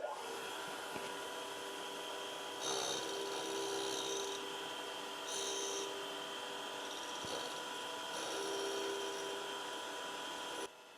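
A drill bit tip is ground against a spinning grinding wheel in a machine shop, a steady faint motor hum with grinding contact swelling in several short passes as the bit is fed in.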